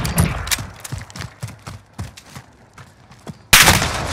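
Gunfire in Call of Duty: Modern Warfare rings out as a string of separate, sharp shots at an irregular pace, some close and some farther off, ending in a sudden very loud blast. Nobody speaks.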